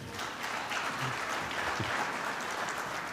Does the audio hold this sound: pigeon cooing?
no